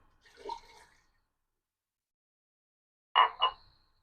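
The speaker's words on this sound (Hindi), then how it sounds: "अब इसमें हम 1 कप पानी डालेंगे।" A cup of water goes into a pot of turnips on the stove, heard as two short, soft splashing bursts separated by a few seconds of silence.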